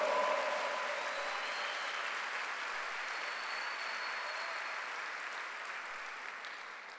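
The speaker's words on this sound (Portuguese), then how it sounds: "Dá um aplauso ao Senhor." Congregation applauding the Lord during a Sunday church service, a steady wash of many hands clapping that holds for the whole stretch and slowly fades toward the end, with no voices over it.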